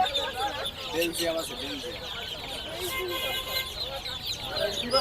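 Chickens cluck and chirp steadily among chicks at a busy village poultry market, with a continuous murmur of bargaining voices and crowd noise layered over the birds.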